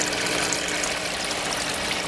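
Aquaponics siphon with a venturi drawing air into the flow, giving steady close bubbling and rushing water that holds at an even level with no talk.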